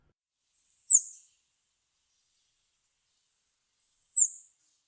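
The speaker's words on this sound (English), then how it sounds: "They also give a Seet call, similar to the high-pitched call of a cedar waxwing, to alert of aerial predators like hawks." American robin giving its high-pitched seet alarm call against aerial predators such as hawks: two thin, drawn-out whistled notes, each about half a second long and spaced roughly three seconds apart, heard clearly against silence.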